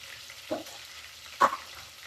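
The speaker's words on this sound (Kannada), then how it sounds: "ಈ ಆನಿಯನ್ನು ಗೋಲ್ಡನ್ ಬ್ರೌನ್ ಕಲರ್ಗೆ ಟರ್ನ್ ಆಗಬೇಕು, ಅಲ್ಲಿವರೆಗೆ ನಾವು ಇದನ್ನ ಫ್ರೈ ಮಾಡ್ಕೊಳ್ಳೋಣ" Onions frying in a pan toward golden brown, a soft background sizzle broken by two distinct scraping stirs, quiet and close.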